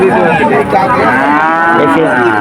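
Calves at a cattle market give one loud, drawn-out moo close by, with faint background market noise.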